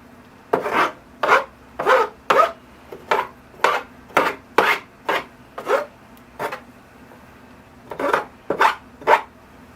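Combing out the roots of a young hawthorn or Korean maple bonsai during repotting, a series of about fifteen short, rhythmic rasping strokes, close and distinct, with a brief pause before the last few.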